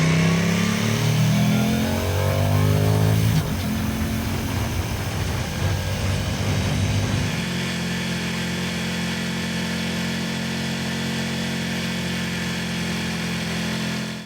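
Motorcycle ride recorded through a tiny clip-on DJI or Insta360 microphone, the engine revving up through rising gear pulls, then settling into a steady cruising drone with wind rush, loud and close, no talking.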